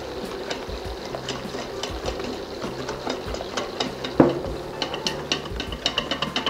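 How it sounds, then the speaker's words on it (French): Almond tuile batter being stirred as melted butter is added, a soft, continuous scraping and swishing close by with a brief louder knock partway through, then quicker repeated strokes toward the end. "On mélange."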